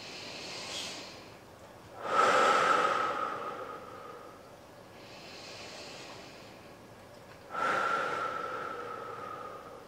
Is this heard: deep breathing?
yes